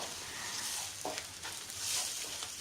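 Hen's eggs fry in a pan for egg fried rice, giving a soft, steady sizzle with light stirring scrapes, fairly quiet and without speech.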